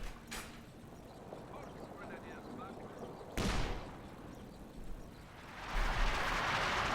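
Calliope rocket artillery barrage in Company of Heroes 2, a salvo of broad blasts and rumbling impacts rising to a loud hissing roar near the end, heard under ongoing battle noise and commentary.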